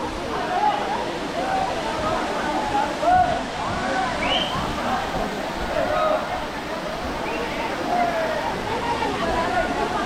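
Steady roaring rush of the Kalmandavi waterfall in Maharashtra fills the scene, with a crowd's chatter and distant voices mixed under the constant water noise.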